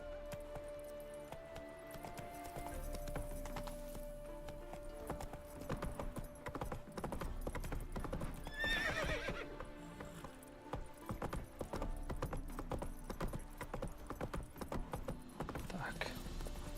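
Hoofbeats of Roach, the horse in The Witcher 3, clip-clop steadily at moderate loudness alongside game music and ambience, with a brief neigh-like burst near the middle.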